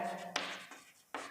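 Pen or pencil writing a sentence by hand on paper, a close, soft scratching in two bursts separated by a short, quieter pause.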